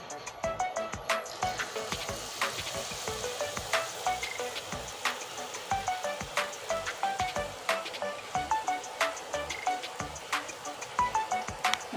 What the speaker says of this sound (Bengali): এই বাকিগুলো আমি ভেজে নেব দেখুন।